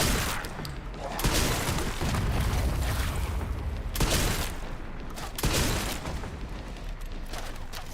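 Mortar explosions in a Resident Evil video game land as loud, dense rumbling blasts, with heavy booms hitting around one, four and five and a half seconds over a continuous roar of battle.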